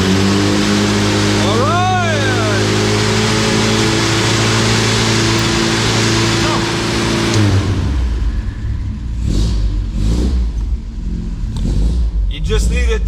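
A classic UK car's engine cranks over steadily for several seconds, then catches and revs with rising and falling bursts, close and loud, while people talk over it.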